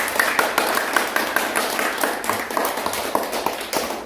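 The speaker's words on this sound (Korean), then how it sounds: "뜨겁게 박수 주십시오" Audience applause in a Korean university lecture hall after a professor's talk, a steady mid-distance patter of many hands clapping for about four seconds with a few sharper claps standing out.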